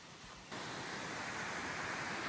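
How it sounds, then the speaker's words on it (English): A waterfall at a campsite pours as a steady, full rushing roar that swells after a brief quieter start and keeps going evenly, with no voices over it. "All right, so there's the waterfall."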